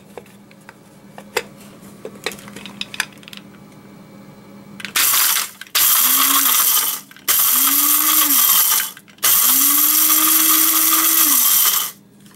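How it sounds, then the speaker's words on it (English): A cheap blade-style coffee grinder chops dried hot peppers in three loud whirring bursts of rising pitch, each a second or more long, after a few faint clicks and taps. "grab a nice, cheap coffee grinder, standard blade style"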